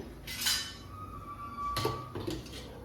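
A metal cooking pot is set down on a gas stove with a pair of close, hard clanks about a second apart over a steady low background hum.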